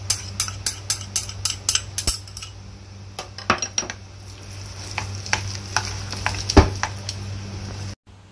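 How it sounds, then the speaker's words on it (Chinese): Minced pork and chopped onion are stirred together in a bowl, opening with a quick run of sharp, rhythmic utensil clinks, then slower scattered taps and scrapes before the sound cuts off abruptly. "搅碎啲猪肉，加埋啲洋葱碎，捞埋一齐。"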